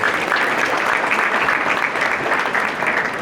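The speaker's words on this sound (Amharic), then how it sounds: "ለወጣቶቹ ሞቅ ባለ ጭብጨባ ድጋፋችሁን አንዴ ግለጹላቸው።" Audience applause at an Ethiopian community association's anniversary celebration, honoring the youth coordinators: steady, dense clapping from a crowd, continuous and fairly loud throughout.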